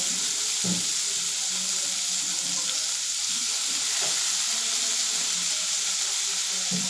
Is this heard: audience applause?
no